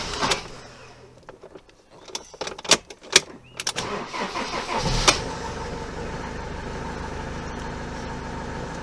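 A Citroen Relay van's engine cranks with several sharp starter bursts, then catches and settles into a steady, close idle with a slight early misfire.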